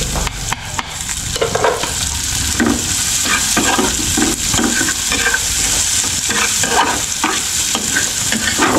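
Onion and garlic fry in hot oil with a loud steady sizzle, while a spoon stirs and scrapes the pan in repeated strokes, close up and without talking.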